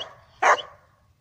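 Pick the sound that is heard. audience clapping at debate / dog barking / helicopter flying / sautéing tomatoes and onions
dog barking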